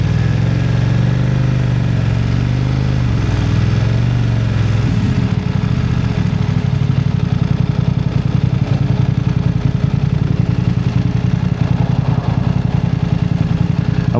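A motorcycle engine idles steadily and close up for the whole stretch, a continuous low mechanical rumble with faint clatter and no talking.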